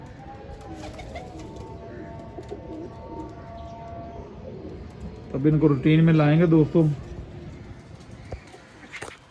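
Someone talks over quiet background noise, then a pigeon close by, among Lakha and Sialkoti pigeons, gives a loud, throaty cooing call lasting a couple of seconds.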